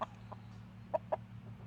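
A chicken gives a few short, soft clucks at spaced intervals over a steady low background hum, fairly quiet and with no talking.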